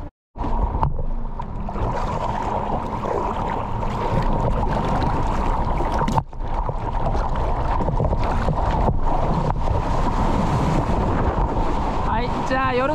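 Ocean surf and rushing water at night in Waikiki, heard from out on the waves while riding one, with steady broadband wash and wind noise close to the microphone throughout.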